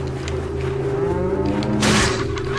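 In the video game Resident Evil 4, a cow gives a long, drawn-out moo, loud and close, with a second animal's lowing overlapping near the end; no talking.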